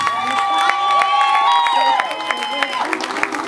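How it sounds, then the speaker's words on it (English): Audience at a live show claps and cheers while music with sustained tones plays over it, the clapping scattered and moderately loud beneath the melodic lines. "Give them a hand clap,"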